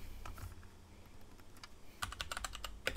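Typing on a computer keyboard while working in a virtual machine: sparse, irregular key clicks at first, then a quicker, denser burst of keystrokes near the end, close and fairly quiet with no talking.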